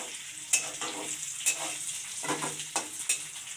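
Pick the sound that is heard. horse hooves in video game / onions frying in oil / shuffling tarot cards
onions frying in oil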